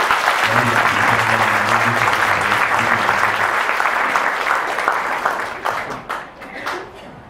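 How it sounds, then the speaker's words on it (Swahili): A church audience gives warm applause, a dense roar of many clapping hands with a voice briefly heard over it early, thinning into scattered claps that fade out toward the end. "ningetaka tumlete kwa makofi mazuri"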